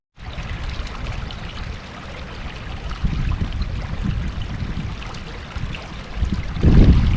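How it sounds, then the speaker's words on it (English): A babbling brook rushes and trickles steadily near at hand, a continuous watery wash with a slightly louder surge toward the end, heard alone. "A babbling brook."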